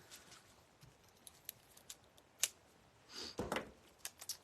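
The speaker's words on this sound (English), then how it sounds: "Let's snip my little tag off" Small scissors make a few quiet, sharp snips as they cut a tag off a DIY winter snowman wreath, with soft clicks scattered around the cuts and no talking.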